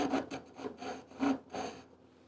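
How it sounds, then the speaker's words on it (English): A small narrow Japanese hand saw cuts salvaged wood for a tool handle in several even back-and-forth rasping strokes, fairly close and quiet, ending in a brief pause. "And this is just a small Japanese hacksaw"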